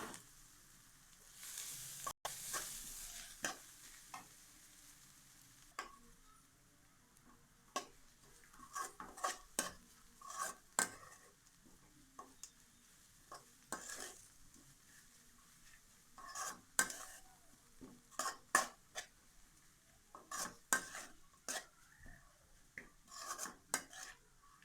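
Grated coconut is stirred into roasted, crunchy poha in a pan, giving quiet scraping and rasping strokes in irregular bursts over a faint sizzle.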